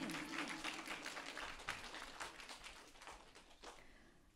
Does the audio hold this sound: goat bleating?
no